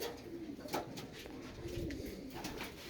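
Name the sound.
pigeon cooing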